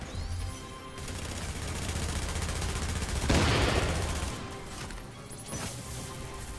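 Sustained automatic turret gunfire in the video game The Division, a dense continuous fusillade of rapid shots that swells into a louder burst midway, with no talk over it.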